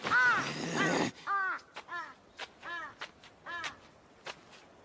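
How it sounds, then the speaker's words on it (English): Crow cawing in the English dub of the anime Demon Slayer: Kimetsu no Yaiba, a series of about seven harsh, rasping caws in an uneven rhythm, close and clear, following a brief loud burst at the start. "Who the hell cares about some stupid crow?"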